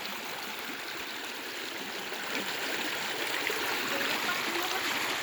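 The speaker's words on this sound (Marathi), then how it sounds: "येतं आहे का पाण्याचा खळखळ आवाज" A river flowing past farm fields in the countryside, a continuous close gurgling and rushing of water that swells slightly partway through, with no talking.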